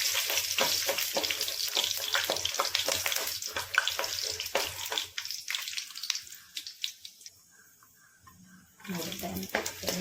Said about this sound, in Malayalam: അണ്ടിപ്പരിപ്പും കിസ്മിസും നമുക്കൊന്ന് ചൂടാക്കിയെടുക്കാം. ചെറുതായിട്ടൊന്ന് മൂപ്പിക്കാം.